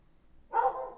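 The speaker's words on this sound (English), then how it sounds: "Sorry about the dog in the background," A dog barks in the background of a room, a short burst of one or two bright barks rising out of near quiet and trailing off.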